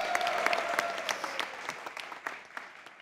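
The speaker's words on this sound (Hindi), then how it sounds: "तालियां हल्की क्यों बजी?" Light studio applause from a small panel, a scattered patter of claps that thins out over a few seconds, fairly close, with no talk over it.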